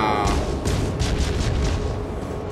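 Warship guns firing in World of Warships, a loud deep boom followed by a rolling rumble of several overlapping blasts that fades out over a couple of seconds.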